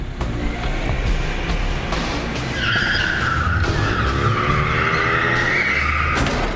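A car in the movie Cop Out skids, its tires squealing loudly and continuously for several seconds over engine noise and heavy movie sound.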